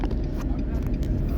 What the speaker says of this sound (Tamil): கிளச்சிலேருந்து கால் எடுக்கிறதுக்கு முன்னாலே எக்ஸைட்டை கொடுத்தீங்கன்னா வண்டி இப்படி தான் சவுண்ட் இருக்கும்